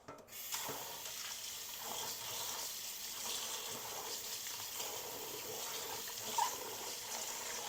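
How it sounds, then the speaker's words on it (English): Harvested elderberries being rinsed under running water, a steady, fairly soft gush of tap water with faint splashes and a brief clink near the end, no voices. "Give them one more good little rinse, and then we'll strain them again."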